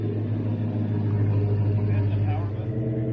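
A Gen V L83 5.3 direct-injection engine runs on a dyno with a steady, loud low drone and strong harmonic hum throughout.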